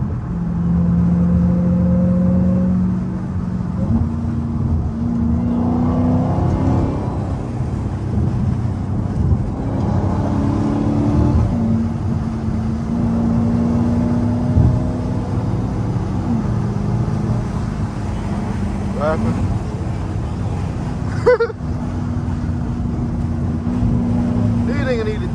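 Inside a Dodge SRT Hellcat with 707 horsepower, driven past 150 mph, the engine gives a deep, steady, loud drone with pitch climbing through several gear changes, while a voice talks over it.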